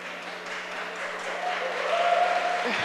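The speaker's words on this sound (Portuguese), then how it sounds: "essas palmas são para você" Audience applause in a city council chamber during a Women's Day session, a moderate wash of clapping that swells slightly toward the end while a faint voice murmurs underneath.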